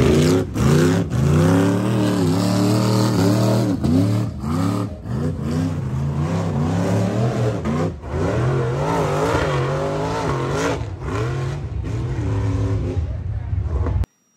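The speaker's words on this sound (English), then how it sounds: "My race car." Race car buggy engine revving hard and repeatedly, loud and close, with rising and falling surges of the motor over about fourteen seconds.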